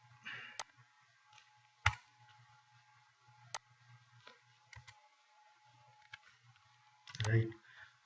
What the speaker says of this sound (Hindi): अब इसको मैं सेव एंड कंटिन्यू पे क्लिक कर देता हूँ